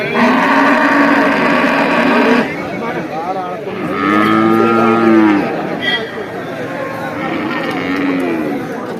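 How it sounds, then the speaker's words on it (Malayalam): Cattle moo loudly nearby at an outdoor livestock market, several long, low calls rising over a busy background of murmuring and movement. "കാളക്കന്നും പോത്തും കന്നും എരുമക്കന്നും"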